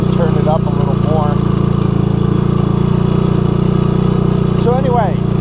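A 1984 Honda ATC200S three-wheeler engine idling close and loud, a steady low putter running throughout with brief squeaky sounds over it.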